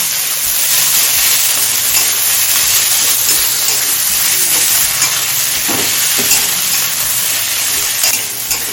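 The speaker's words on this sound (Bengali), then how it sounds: "পাতলা করে কুচনো পেঁয়াজ দিচ্ছি বড় সাথে দুটো এখন পেঁয়াজটা হালকা লাল হয়ে আসা পর্যন্ত ভেজে নেব" Two large onions, thinly sliced, frying in oil, a loud, dense, steady hiss and sizzle close up with occasional faint stirring sounds.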